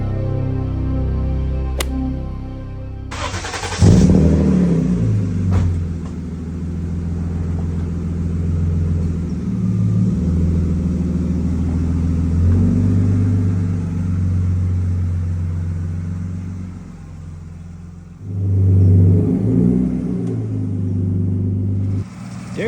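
A twin-turbo V12 BMW E34 Touring drives along a road, its engine droning steadily with a loud low rumble that briefly swells as the car pulls away and again later, close and continuous.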